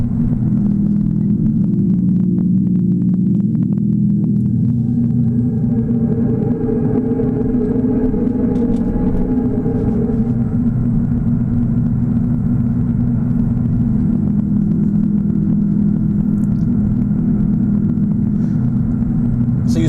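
A Tesla's external speaker plays a Predator sound effect while driving, a continuous low droning rumble that swells and shifts in tone as the car slows and accelerates, steady and close with no talking.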